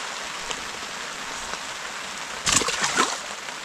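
Steady rain patters on the surface during autumn fishing for bream on the Kaunas Reservoir, with a louder close splash and rustle near the end.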